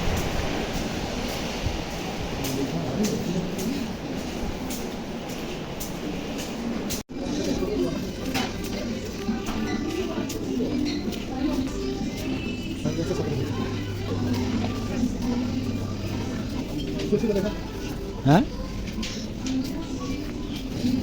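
Outdoor green market ambience: a continuous wash of crowd murmur, distant chatter and scattered clatter with faint bird calls, broad and steady, with someone talking over it.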